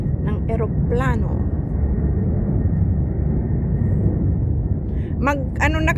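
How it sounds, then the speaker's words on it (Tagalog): An airplane takes off near Tongchong Promenade with a loud, steady, broad engine roar that fills the whole stretch. People talk briefly at the start and again near the end. "Ang lakas ng tunog ng eroplano."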